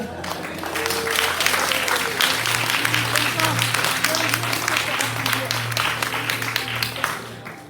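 A congregation applauds during a French-language church service, sustained dense clapping filling the room at steady loudness for several seconds, with a voice and a low musical tone underneath.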